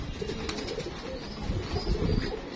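Racing pigeons coo softly at a tournament loft, a steady low murmur of cooing with faint chirps over continuous background noise.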